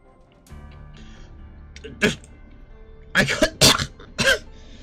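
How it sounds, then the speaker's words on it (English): A single cough from someone struck by a spear, with one sharp burst near the start followed by a cluster of harsh, wet coughs close up, over a low steady hum. "I cough up blood once."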